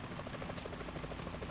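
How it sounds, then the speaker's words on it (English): Helicopter flying in the video game Metal Gear Solid 2, a steady rhythmic rotor chop that is fairly faint and continuous with no voices. "Is that a chopper I just heard?"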